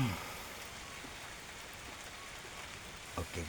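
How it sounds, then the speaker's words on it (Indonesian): Steady rain falling on surfaces, a soft continuous patter with a few nearer drops and faint bumps near the end. "hujan terus"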